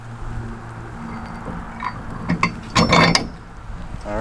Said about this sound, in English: Slide the bolt back into the hole you had it before.